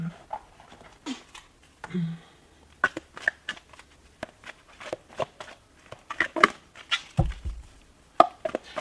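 Oracle cards being shuffled and pulled from a deck, a close, irregular series of soft card slaps and riffles with brief pauses between bursts.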